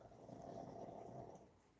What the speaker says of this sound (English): The little doggy is snoring.